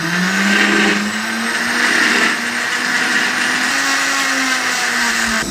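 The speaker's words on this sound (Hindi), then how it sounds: "इसको यहाँ पे लगा देना है और इसको हमने 2 मिनट के लिए अच्छे तरीके से ग्राइंड करना है।" Blender grinding homemade energy drink ingredients, a loud, steady motor whir with slight pitch shifts, running continuously and alone without talk.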